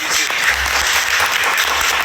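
Steady, dense applause from a crowd, loud and continuous throughout with no talking over it.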